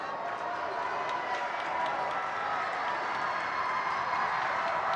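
A high school basketball playoff crowd in a gym murmurs and shuffles as people start leaving, a steady diffuse rumble of voices and movement throughout, with a commentator talking over it.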